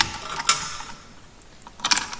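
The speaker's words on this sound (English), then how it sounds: "before we can put the caliper back on, you got to compress the piston." A brake caliper piston compressor tool works on a 2006-2012 Ford Fusion front brake caliper, giving two short bursts of ratcheting mechanical clicks separated by a quiet pause, close and fairly loud.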